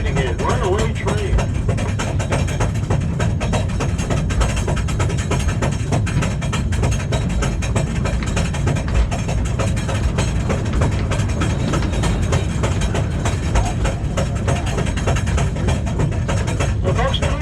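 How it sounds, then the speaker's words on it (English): Cave tour train in Marvel Cave, Branson, Missouri, hauled up an incline while an empty unmanned train passes alongside; steady loud rumble with rattling, clattering mechanism throughout. "As that train goes by you on your left, it's actually pulling us up at the same time."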